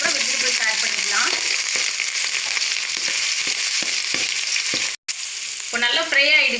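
Green chilies, grated ginger and garlic frying in hot oil, a loud dense crackling sizzle with occasional stirring knocks, broken by a brief silence, and a voice briefly audible near the end.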